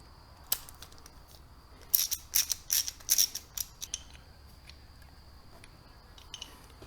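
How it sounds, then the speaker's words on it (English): A ratchet bolts a bracket onto the base of an auxiliary light for a RAM TRX, a short run of crisp clicking strokes in the middle, close and otherwise quiet, with a few isolated clicks around it. "just bolting the bracket onto the base of the light"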